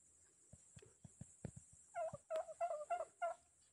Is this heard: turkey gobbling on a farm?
yes